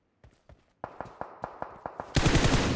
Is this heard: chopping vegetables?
no